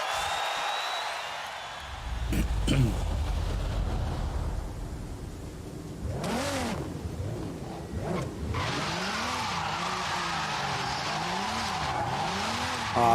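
Engine roars of a 2005 Ford GT rise and fall with wavering pitch as cars race in Forza Horizon 5, with tire screeches in the middle; a continuous, fairly loud racing game soundtrack.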